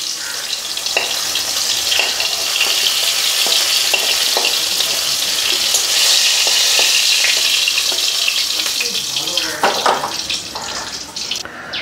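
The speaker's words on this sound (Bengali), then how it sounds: "আমি উল্টে পাল্টে ভেজে নিয়েছি, সব মাছগুলো আমার ভাজা হয়ে গেছে।" Pieces of tilapia fry loudly in hot oil, a dense continuous sizzle and spatter with scattered sharp pops and utensil scrapes toward the end.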